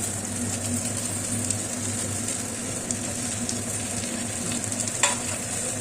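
Soaked, drained poha goes into a hot wok and gets stirred, with a steady close sizzle broken by scraping stirs and a few sharp clinks of the spatula.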